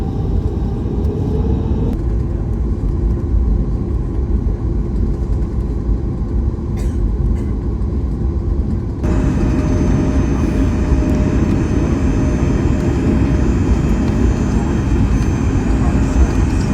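Alaska Airlines Boeing 737-8 MAX taxiing toward the gate, heard from inside the cabin as a steady loud engine rumble and air roar that shifts level partway through and continues without break.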